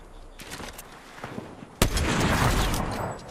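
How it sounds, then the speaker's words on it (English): A single sharp gunshot in an online shooter game cracks out loudly, followed by a sustained burst of rapid gunfire, with softer scattered shots before it. "Somebody just sniped me from the island, I think."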